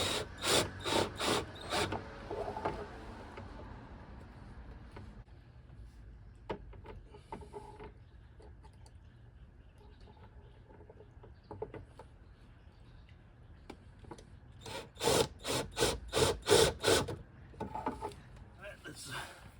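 A wooden drawer is mounted and fitted into a camper van table. Clusters of sharp clacks and knocks, wood rubbing and mechanical clicks come in bursts, loudest at the start and near the end, with quieter handling noises between.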